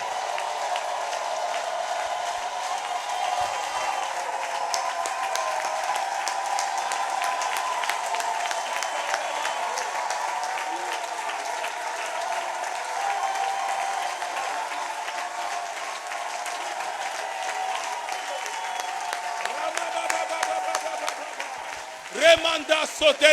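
Sustained applause and cheering from a church congregation acclaiming Jesus during a Thursday intercession service, a dense steady wash of clapping with voices mixed in, swelling louder at the very end.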